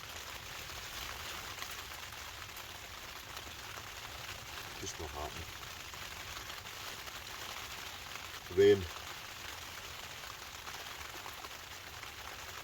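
Steady heavy rain patters on the fabric of a Dome X4 hot tent at a wild camp in Scotland, a continuous soft hiss broken only by a man's brief remark partway through.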